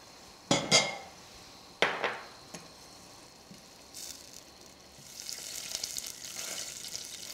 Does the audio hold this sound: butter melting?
yes